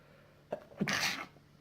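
A single close, sharp sneeze bursts out after a brief intake of breath, loud and alone in an otherwise quiet room.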